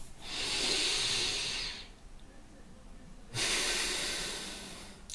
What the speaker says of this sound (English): And then just have another couple of deep breaths again. And one more.